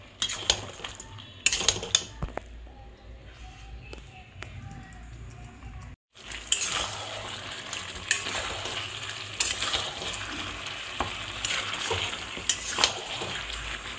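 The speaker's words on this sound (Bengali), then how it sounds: "চিকেন কষাতে কষাতে চিকেনের থেকে তেল রিলিজ করে দিয়েছে।" Chicken curry with yogurt sizzles and fries in a pan while a utensil stirs and scrapes, producing clattering bursts over a constant crackle, broken by a brief pause midway, close and moderately loud.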